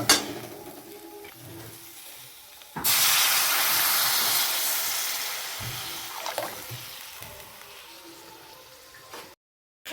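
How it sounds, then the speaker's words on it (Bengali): Water poured into a hot pan of browned curry sets off a sudden loud, sustained steamy hiss that slowly fades over several seconds, with faint stirring clatter beneath and no talking. "তরকারিটা কষানো হয়ে গিয়েছে এবারে জল দিয়ে দেবো"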